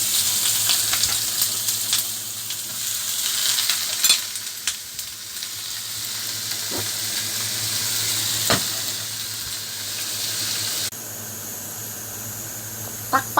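Steady loud sizzling and frying of pigeon meat sautéing in a hot wok, with occasional sharper crackles and pops over a continuous hiss.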